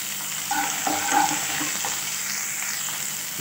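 Onion and bell pepper roasting in a pan, a close, steady sizzle with a few stirring scrapes early on, then settling into an even hiss.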